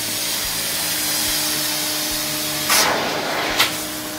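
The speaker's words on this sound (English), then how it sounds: "the weight of the tool and the vacuum pressure, we get a kind of a squeegee effect that supercharges that vacuum, and that water just comes rushing out" A carpet extraction vacuum tool pulls water out of a urine-soaked carpet pad with a steady suction hiss, then two sharp gurgling slurps as water rushes out near the end, close and loud with no talking.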